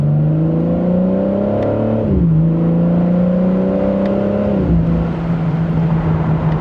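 A 2025 BMW M4 Competition Convertible driving with its top down in sport mode, second gear: loud, close engine drone that climbs in pitch, drops at a shift, then climbs and drops again.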